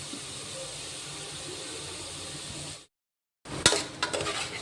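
Meal maker soya chunks being stir-fried in a pan for biryani: a faint, steady sizzling hiss, a brief cut to silence, then a few sharp clinks and scrapes of a utensil against the pan.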